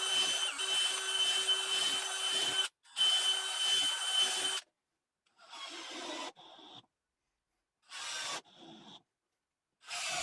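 A saw cuts small wooden pieces about two inches long for a feather board, giving harsh buzzing rasps in separate bursts, two long and three shorter, with silent pauses between.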